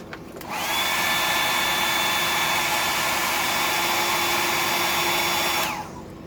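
A hair dryer is switched on and runs at a steady, loud whir for about five seconds while drying freshly applied paint, then cuts off and winds down.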